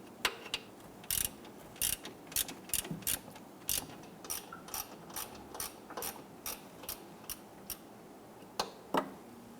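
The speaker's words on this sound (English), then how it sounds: "We're going to use an 8mm on our ratchet. We'll go ahead and loosen and remove this here." A ratchet fitted with an 8mm socket clicks in quick uneven bursts while loosening a bolt on a 2011-2021 Jeep Grand Cherokee washer reservoir, sharp close ticks separated by short pauses.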